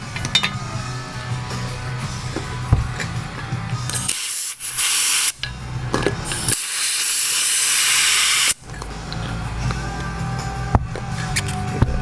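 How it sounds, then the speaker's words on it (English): Compressed air hissing as a GoPed scooter's rear tire is inflated in two bursts, a loud, steady rushing spray, with quieter clinks and handling noises between and around them. "We're going to air up the tire fully."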